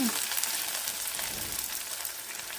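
Onions sautéing in a pan for mushroom biryani, a soft continuous sizzle and crackle of frying that stays steady and fairly quiet throughout, with no voices.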